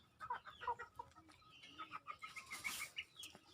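A mother hen clucks in short repeated bursts close by on a rural farm, with other chicken calls and chirps scattered around.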